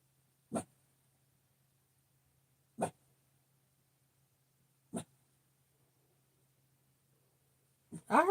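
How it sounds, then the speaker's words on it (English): A dog in a quiet room gives three short, sharp barks spaced about two seconds apart, each fairly faint and isolated, with a voice briefly starting at the very end. "It's like the third time I've heard him bark since I had him."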